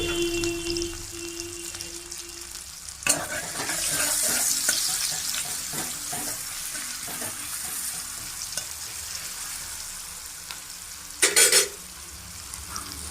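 Onions frying in hot oil in a wok, a sudden loud hiss as they drop in, then a steady sizzle with stirring scrapes and a brief clatter near the end.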